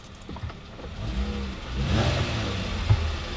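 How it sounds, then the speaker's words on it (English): A Jeep Wrangler JK engine rises from idle as it is revved once, the engine note swelling over a few seconds and holding, heard from nearby without talk. "And then if we rev"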